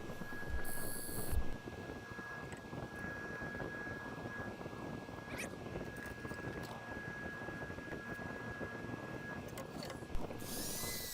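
A continuous rough, scraping whir of a rougher tool cutting a Bradford Pear bowl spinning on a wood lathe, steady throughout with a faint high tone and occasional knocks.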